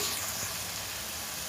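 Small masoor lentil and keema kebabs frying in a pan, giving a steady, dense sizzle of hot oil that holds evenly throughout, close and loud with no talk.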